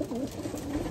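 Pigeons coo in a breeder loft: a soft, close, continuous murmur of low throaty calls with no voices over it.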